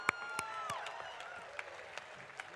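Graduation audience applauding at a university spring commencement ceremony, a brief scattered burst of clapping with a few sharp individual claps standing out, moderately distant and fading quickly.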